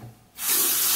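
Water runs into a sink during a rinse after a single-edge safety razor shave, starting as a soft hiss and jumping to a loud, steady rush partway through, with no talking.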